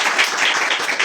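Applause from a church congregation during a Telugu Christian sermon on Lent and Ash Wednesday, a steady dense wash of many hands clapping together, fairly loud and continuous for about a second with no voices over it.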